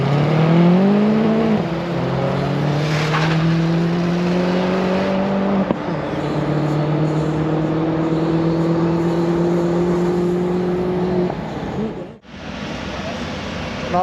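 Turbocharged Vauxhall Corsa C and Astra Coupe Edition 100 drag racing down a strip: loud engine notes rise steadily through the gears in long pulls, with a brief gear-change break and a dip near the end.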